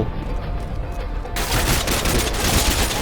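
Heavy gunfire in the video game Call of Duty Modern Warfare 2 bursts in suddenly after a quieter moment and continues as a loud, dense volley of rapid shots with no talk.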